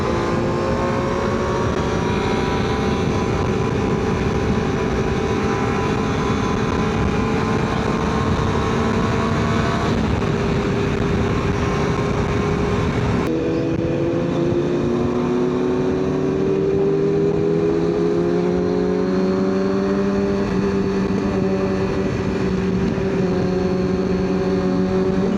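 A Suzuki Hayabusa motorcycle riding on the road in Goa, its engine droning loud and continuous with steady tonal whine and shifting pitch, plus constant wind rush and no talking.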